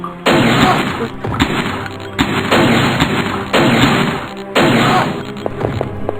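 Heavy bursts of video game gunfire, from machine guns and grenades, with booming, crashing impacts come in repeated volleys every second or so, loud and close, with a steady hum underneath.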